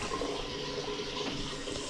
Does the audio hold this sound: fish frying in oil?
no